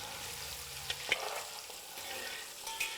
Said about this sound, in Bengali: এবার এটাকে ভালো করে আপনারা ভেজে নিন।